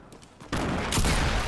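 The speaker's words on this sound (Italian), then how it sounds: "Sento spari provenienti da codesta parte." Gunfire in the video game Fortnite: a sudden loud burst of rapid shots erupts midway and keeps going as a dense, continuous fusillade, replacing the quieter game ambience that came before it.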